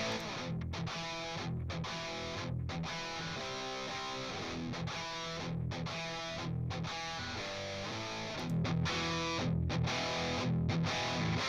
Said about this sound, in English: And here comes the Tube Screamer on the other side.